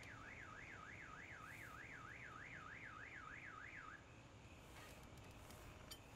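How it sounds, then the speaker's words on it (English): A car alarm wails at a distance with a rapid rising-and-falling warble for about four seconds, then cuts out, leaving low background hum. "Is that our car alarm? That sounds like our car alarm."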